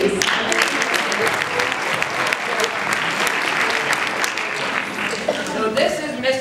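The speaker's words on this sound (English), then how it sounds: "Round of applause, please." Audience applause at a 2017 stage show welcomes a fitness performer: a dense, steady wash of many hands clapping, loud and close, sustained without letup for the whole stretch.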